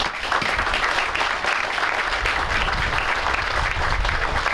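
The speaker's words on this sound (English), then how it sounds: "I'd like to give them all a round of applause" An audience at a Glassboro community event applauds, a dense, steady wash of many hands clapping at close range for the full length, with no one speaking.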